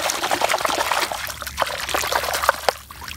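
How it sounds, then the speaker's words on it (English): Water splashes and trickles over a honeycomb fossil coral piece as dirt is rinsed off, making irregular close splashes and drips with no talking. "Let me wash this off and see what it looks like here."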